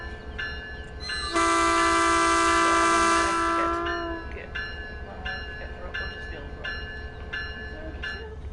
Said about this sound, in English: Do you want a bit of horn?